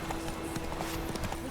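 A horse gallops in The Witcher 3 video game, a continuous, fast clip-clop of hooves close by, set against a dense game background of wind and ambient noise.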